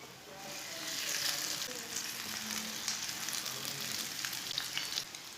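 Bread slices fry in a hot pan with a steady, close sizzle that holds for several seconds, without any talking.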